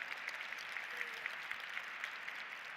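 A steady wash of audience applause at a science awards ceremony, dense and even throughout with no voices over it.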